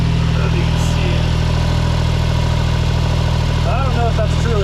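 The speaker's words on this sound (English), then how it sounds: "Also got a full J-Works header back exhaust on it." A 1993 Honda Beat fitted with a full J-Works header-back exhaust and equal-length primaries idles close by, a loud, steady, low rumble holding an even tone from start to finish.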